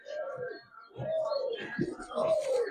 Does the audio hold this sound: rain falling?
no